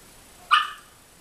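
A dog lets out a single short, sharp bark or yip close by in an otherwise quiet indoor setting.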